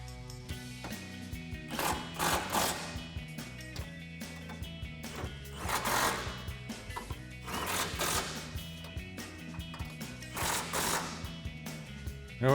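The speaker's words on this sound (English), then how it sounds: "Now we go ahead and tighten down our 4 nuts at the top using our 12mm socket." A ratchet with a 12mm socket tightens the four strut top nuts on a 2005-2014 Mustang during a coil-over install, giving rhythmic bursts of rapid clicking with metallic clatter between.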